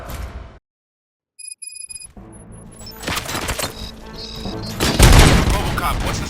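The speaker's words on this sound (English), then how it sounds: "Gunshots? What's going on?" Gunfire in the Robocop: Rogue City video game: a dense fusillade of sharp bangs and booms builds up mid-clip, loud and close, mixed with game music, effects and voices.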